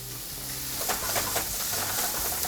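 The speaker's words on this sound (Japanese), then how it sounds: "最初はちょっと強火で、まず塩を一つまみ入れた、これで炒めていきます。" Soffritto for a bolognese sizzles in a hot frying pan over high heat with a pinch of salt and garlic oil, a steady close crackle with soft stirring scrapes and no talk.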